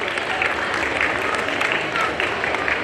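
Audience clapping at a Hindi student award ceremony as a student comes on stage, a continuous moderate round of applause with crowd noise and a voice over the top.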